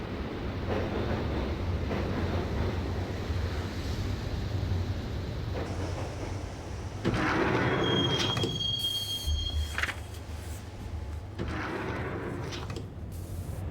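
Subway train from the game Max Payne rolling along the track, a steady rumble with wheels squealing and a sharp metallic screech near the middle, then rattling and clatter fading into continued running noise.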